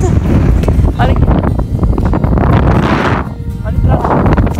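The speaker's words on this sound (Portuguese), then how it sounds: "E do nada vem a tormenta de areia." Strong wind blowing across coastal sand dunes during a sudden sandstorm in southern Brazil, a loud, steady roaring gust buffeting the microphone throughout, with a brief lull near the end.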